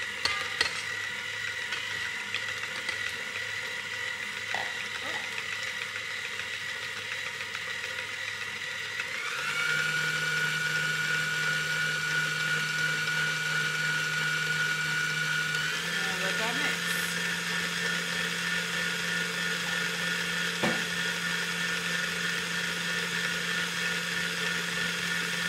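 An electric mixer whips butter for cake frosting, a steady whirring motor that starts slow and then steps up to higher speeds, continuous and close, with a few faint scraping clicks.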